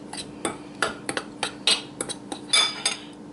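Cornbread batter with salt being stirred in a bowl, producing close, rhythmic taps and scrapes of a utensil against the bowl, about eight strokes in quick succession.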